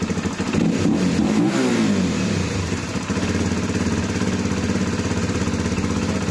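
A Honda Flash 150 motorcycle engine, fitted with a newly replaced IACV, revs up with a rising then falling pitch and then settles into a steady, loud idle chug close by.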